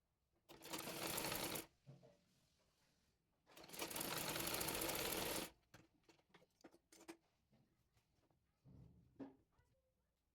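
A sewing machine stitches a baby frock in two long continuous runs of loud whirring, separated by quiet gaps with scattered clicks and handling taps, then a short final burst.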